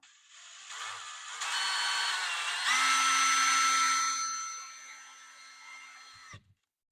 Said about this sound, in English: drill that out to 3/16, which I do believe is the right size